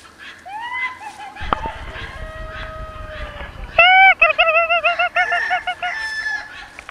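Chickens on a farm cluck and crow close by, with drawn-out calls and a burst of rapid, loud clucking in the second half over a low rumble of movement.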